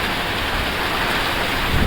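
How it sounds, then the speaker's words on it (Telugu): Rain pours down in a dense, steady hiss, loud and close, with no break across the whole stretch, during the first rainfall of the year on farmland. "పో పో వర్షం వస్తుంది పో"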